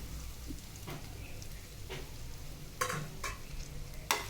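Grated coconut sautés in a little oil in a kadai, a soft low sizzle broken by a few sharp spatula scrapes and stirs, close but quiet, with no talking.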